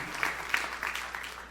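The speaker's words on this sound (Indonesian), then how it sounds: "Tepuk tangan sorak-sorai yang paling meriah buat Yesus" A church congregation applauds and cheers for Jesus, with a brief burst of clapping that rises and fades, moderately loud over a reverberant room.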